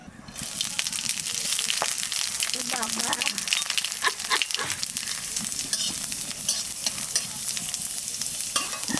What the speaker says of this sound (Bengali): তেলের উপর দিয়ে দেবো পাঁচ ফোড়ন আর শুকনো লঙ্কা